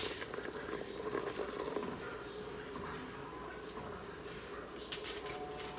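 Broth from turkey legs boils quietly in a pot, a faint, steady bubbling with small pops and ticks, no voices over it.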